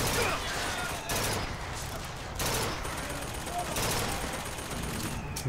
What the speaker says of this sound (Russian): Блин, как стреляет как М16.